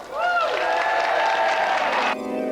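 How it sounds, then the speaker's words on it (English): A studio audience at a 1995 television video-game show applauds and cheers a volunteer in one loud, sustained burst lasting about two seconds, with bright tonal sounds ringing over the crowd noise. "Round of applause for our brave volunteer."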